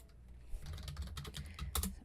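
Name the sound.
typing a command on a computer keyboard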